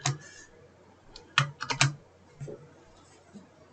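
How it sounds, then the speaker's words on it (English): Code being typed on a computer keyboard during a C# .NET console programming lesson: close, crisp key clicks in short irregular bursts, a quick cluster of taps followed by scattered single presses with quiet pauses between. "let's type again"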